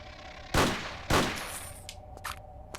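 Gunfire in a Tomb Raider level, two loud sharp shots about half a second apart, followed by fainter clicks and short bursts.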